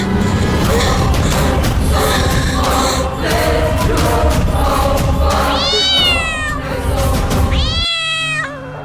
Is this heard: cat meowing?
yes